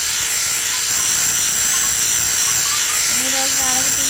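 A toothbrush scrubs teeth in the Angela video game: a loud, continuous buzzing hiss that holds steady throughout, with a voice talking underneath.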